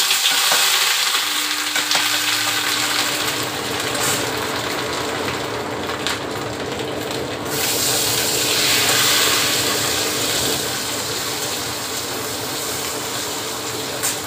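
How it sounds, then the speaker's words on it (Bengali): Ginger and tomato frying in a pan for khichuri, a steady sizzle with stirring scrapes running throughout, close and fairly loud, with watery hiss and no talking. "এবার দেখো আদা আর তার সঙ্গে টমেটো দিলাম, দিয়ে একটুখানি ভেজে নিয়েছি"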